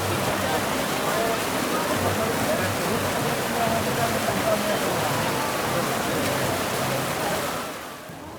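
Cambugahay Falls on Siquijor pours into its plunge pool, a steady, dense roar of falling water that holds nearly constant before fading out at the very end.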